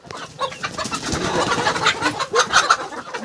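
Desi village chickens of many colours clucking and calling close by, a steady scatter of short hen sounds and coos over several seconds with no talk.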